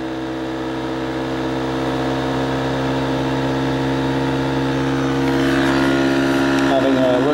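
A bucking field reluctance motor (v.2 design) running with its brake just released, giving a steady electric hum with layered tones that climbs in pitch toward the end as it speeds back up.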